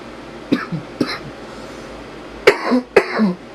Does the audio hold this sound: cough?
yes